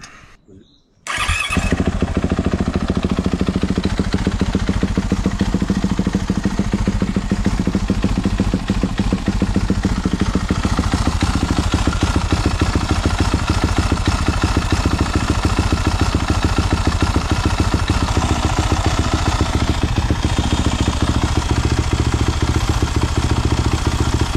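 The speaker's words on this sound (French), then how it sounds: "du coup là on a fait tourner la moto" A 2021 Yamaha 450 YZF dirt bike fires up after a gearbox oil seal replacement and then idles loud and close, a steady rapid single-cylinder putter with constant clatter and a voice talking over it.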